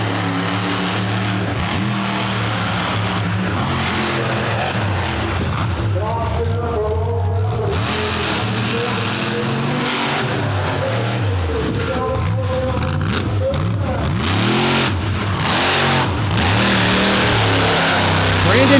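Monster truck at a freestyle show in Charlotte, North Carolina, engine roaring and revving in repeated surging swells, loud and sustained, with a commentator talking over it.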